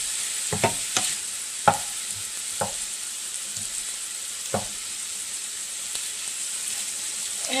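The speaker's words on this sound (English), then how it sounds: "Okay, I've got the sausage almost scrambled up here." Sausage frying and being broken up in a pan, a steady fry hiss with scattered sharp spatula clacks and scrapes against the pan, close and moderately loud.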